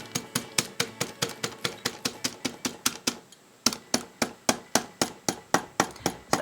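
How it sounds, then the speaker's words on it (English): A hammer taps steadily on the folded signatures of a book spine during loom book binding, about twenty sharp even blows at a quick rhythm, with one brief pause midway. "I'm hammering down and towards the edge."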